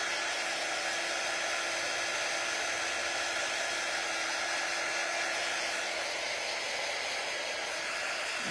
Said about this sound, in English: just trying to get these places dry that I got wet